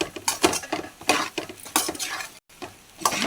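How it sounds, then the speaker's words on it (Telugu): A spoon scraping and clinking in a metal pan while mixing hot rice for tempered rice, irregular close strokes and taps with brief pauses between them. "చూడండి ఇలా బాగా కలుపుకోవాలి"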